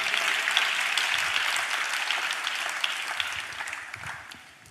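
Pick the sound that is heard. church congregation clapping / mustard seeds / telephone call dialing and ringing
church congregation clapping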